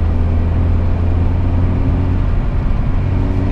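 A 1995 Honda Accord with a 115 hp 2.0 engine and a sport air filter drones steadily while driving through the city, a constant loud low rumble with engine whir and road noise and no talk.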